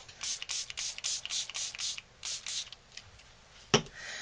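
Homemade glimmer mist is spritzed onto paper peony petals in a quick run of about a dozen short, hissing pumps close by, followed by a sharp knock and a faint trailing hiss.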